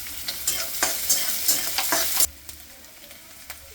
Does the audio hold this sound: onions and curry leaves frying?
yes